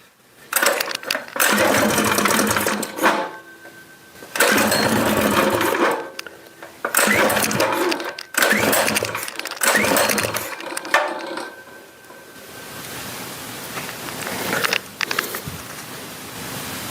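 A small gasoline engine with a carburetor, gas tank level with the carburetor inlet, running in loud bursts that rise and cut out several times, then settles into a steadier, quieter idle.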